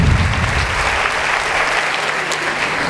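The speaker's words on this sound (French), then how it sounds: "Absolument, il mérite des applaudissements." Audience applauding at a business event celebrating entrepreneurship, a dense steady clatter of many hands clapping at full strength for three seconds, with faint voices mixed in.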